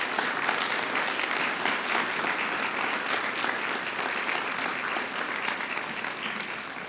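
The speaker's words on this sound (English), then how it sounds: "Let's all give them a round of applause for their service and sacrifice" An audience at a city council meeting applauds to honor veterans for their service and sacrifice, a steady, crowded burst of clapping that holds evenly throughout.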